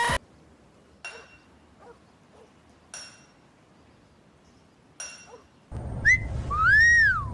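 Five sharp whistle blasts ring out at intervals, each short and loud, followed by a longer warbling whistle over rising background noise.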